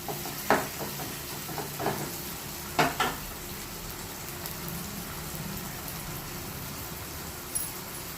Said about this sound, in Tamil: இந்த மாதிரி தக்காளி நல்லா வதங்கணும்